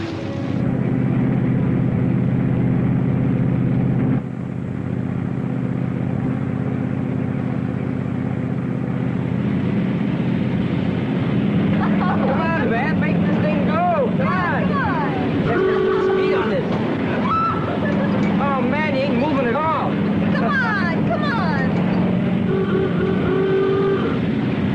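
Car from a 1957 film driving along a road, a steady loud engine drone through most of the stretch, with people talking over it in the latter half and an orchestral-sounding score woven in.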